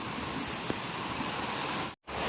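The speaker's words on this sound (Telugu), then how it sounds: "వర్షం అయితే గట్టిగానే పడుతుంది" Steady, dense hiss of heavy rain pouring down nearby, broken by a sudden brief dropout near the end before resuming.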